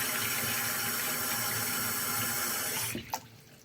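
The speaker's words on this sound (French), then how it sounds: "aujourd'hui je me suis rendu compte que mon eau s'évacuait mal" Water running steadily into a clogged bathroom sink basin with a slow drain, a continuous broad rushing flow that cuts off near the end, followed by a couple of small drips or knocks.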